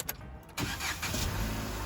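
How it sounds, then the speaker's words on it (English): A Vauxhall Corsa's engine is started: a brief crank, a catch, then a steady, close idle rumble that settles and holds. "I'm going to show you how the car sounds"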